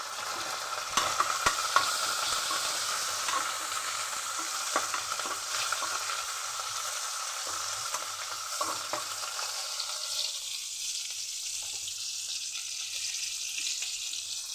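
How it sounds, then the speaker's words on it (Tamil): Onion and two broken dried red chilies frying in a pan for paruppu sadam, a steady close sizzle with scattered crackles and stirring scrapes that gradually softens toward the end. "அப்புறம் 2 காஞ்ச மிளகா கிள்ளி வச்சுருக்கிறேன், அதையும் போட்டுருங்க."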